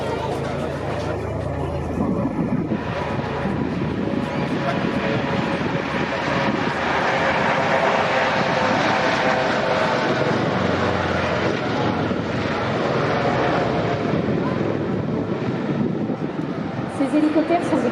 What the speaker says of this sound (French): Les 3 hélicoptères Panther de la Marine nationale reviennent pour un passage